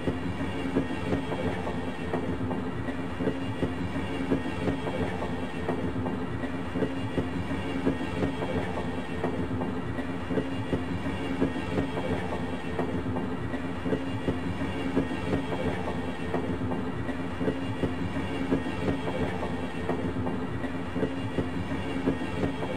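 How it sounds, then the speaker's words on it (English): An automated transit train at the Black Mesa Research Facility in a Half-Life mod rumbles along steadily, with rolling rail noise and faint rhythmic clicks throughout and no voices. "This automated train is provided for the security and convenience of the Black Mesa Research"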